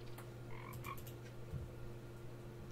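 Frog croaking inside the Roblox game Fling Things and People, a few short croaks over a steady hum of game music and background tones, moderately loud with no talk.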